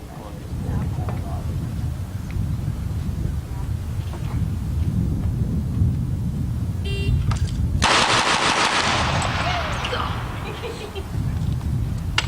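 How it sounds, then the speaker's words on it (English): Six handgun rounds fired in quick succession at a target after a draw, sharp bursts standing out over steady wind and background noise, with a loud broadband stretch in the middle. "target on the left, draw and shoot 6 rounds"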